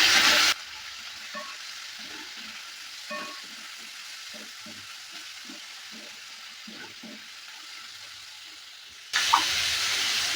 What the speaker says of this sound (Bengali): কাঁঠাল বীজটা দেওয়ার পর ভালো করে আবারও নেড়ে চেড়ে নিচ্ছি